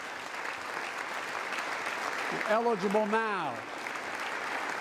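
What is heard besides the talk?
audience applause in Congress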